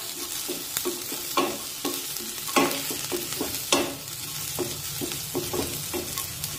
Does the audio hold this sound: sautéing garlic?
yes